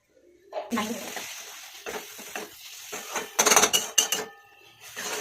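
Yogurt is stirred into paneer bhurji in a pan, with clinking spoon-against-pan scrapes and knocks in uneven bursts over a faint sizzle, and a voice speaking briefly near the start.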